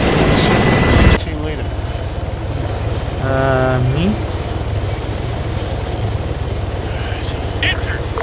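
A helicopter in a combat video game gives a continuous loud rotor thump and engine drone that runs the whole time, with brief game effects and a radio voice layered over it.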